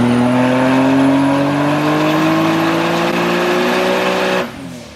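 A turbocharged Nissan 370Z on a dyno holds a loud, sustained engine rev that climbs steadily for about four seconds, then cuts off abruptly and drops to a lower idle-like drone.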